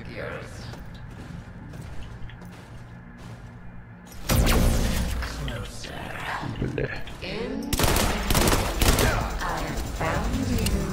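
Rapid gunfire from a double-shot energy weapon in the System Shock Remake video game, bursts of loud crackling shots that intensify after a quieter opening, with a voice talking over parts of it.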